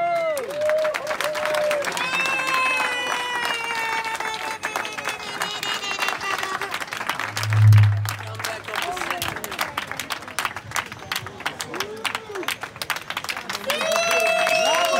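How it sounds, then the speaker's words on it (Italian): An audience at a street-workout prize presentation applauds, scattered clapping and crowd noise mixed with loud talk and cheering voices, with a thump partway through. "un applauso!"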